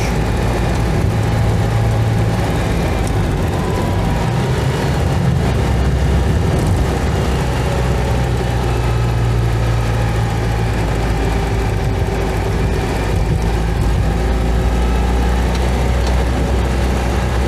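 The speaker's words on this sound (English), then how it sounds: "I'm feeling free to deploy a few more revs, and I'm enjoying that very much" A Citroen 2CV engine with a freshly rebuilt motor drones steadily while driving on British roads in North Yorkshire, a continuous buzzy low hum held at moderately high revs, close and loud with wind and road noise, no talk.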